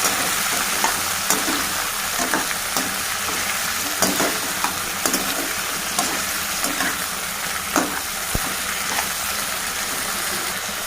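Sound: fenugreek, onion and tomato frying and being mixed in a pan

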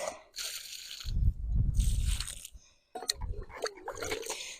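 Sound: watering cucumber plants from a heavy bucket

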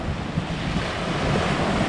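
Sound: cool wind and waves on the beach

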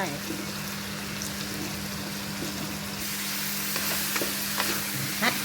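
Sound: stirring cauliflower, carrot and vegetables into pot

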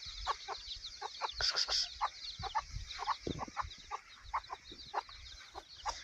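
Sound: chickens clucking

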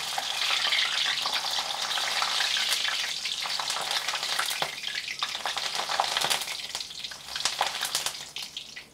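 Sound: green chillies frying in oil with bread pakoras

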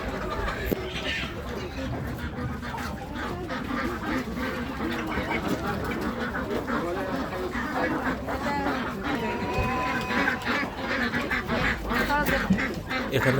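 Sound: ducks quacking at poultry market

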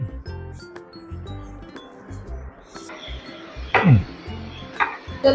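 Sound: chopping turmeric soap into small pieces

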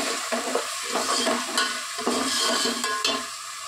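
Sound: stirring and mixing Hyderabadi korma in a pan

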